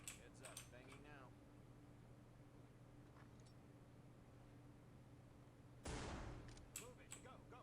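A flashbang grenade detonates in a doorway during a SWAT breach in a tactical shooter game, one sharp, loud blast after quiet radio chatter, followed by a few clicks and voices.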